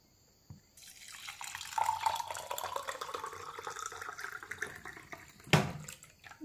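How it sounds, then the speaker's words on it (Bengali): Water poured from a vessel into two drinking glasses while a ginger and clove drink is made in a home kitchen; a steady trickling pour runs for several seconds after a brief knock, with a sharper clink near the end. "এতিয়া মই ইয়াতে পানি দি দিম,"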